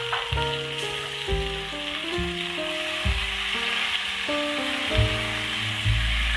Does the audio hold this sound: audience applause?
no